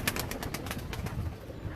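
Teddy and Rampuri fancy pigeons in a Karachi loft coo softly and repeatedly, a low murmuring rhythm of overlapping calls close by with no one speaking.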